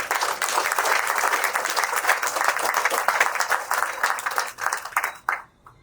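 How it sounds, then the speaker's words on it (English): Audience applause at a Europe Day reception, a dense sustained round of many hands clapping from a seated crowd, holding steady before tapering off and fading out near the end. "I think you deserve a round of applause for that"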